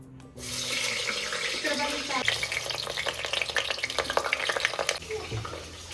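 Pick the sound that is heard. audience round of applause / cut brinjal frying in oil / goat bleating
cut brinjal frying in oil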